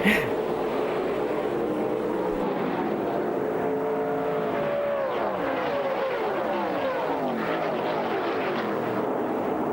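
Race cars accelerating off the start in the NASCAR 99 video game, a dense roar of many engines rising in pitch together and holding loud and steady throughout, with no talk over it.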